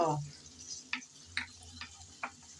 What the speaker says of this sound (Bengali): আলু প্রথমে আমি নেড়ে চেড়ে একটু ভেজে নেব